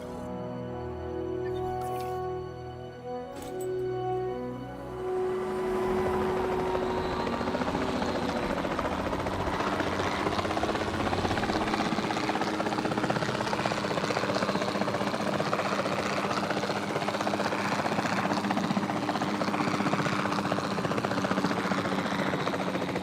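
A helicopter engine and rotor roar builds up after a few seconds of other game sounds and then holds loud and steady, close by, during a dinosaur tranquilizing mission in a video game.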